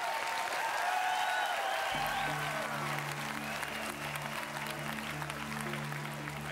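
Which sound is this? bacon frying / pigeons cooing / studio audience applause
studio audience applause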